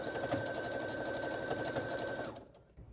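Sewing machine stitching quilt strips, a close, steady rapid mechanical whir with a fast needle rhythm that winds down and stops near the end, no voices.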